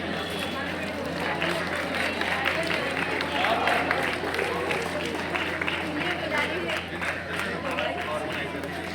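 A crowd at a cricket tournament prize distribution applauds continuously, a dense wash of many hands clapping with some crowd murmur beneath, steady throughout.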